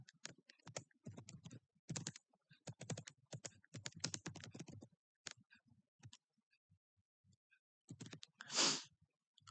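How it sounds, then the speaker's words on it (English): Typing on a computer keyboard, bursts of quick close key clicks separated by pauses, with one louder clack near the end. "Let me type in the Google and see where is this Lake Titicaca"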